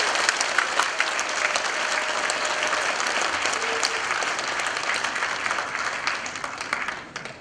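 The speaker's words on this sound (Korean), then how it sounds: "힘찬 강의해 주신 우리 이종찬 광복회장님께 큰 박수 부탁드립니다" A large audience gives sustained, dense applause after a special lecture in Daejeon, loud and even for about seven seconds before tapering off near the end.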